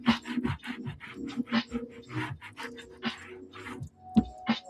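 Sneaker soles being scraped clean, a run of short rasping strokes at close range in an irregular rhythm with quiet pauses between them, and no talk over it.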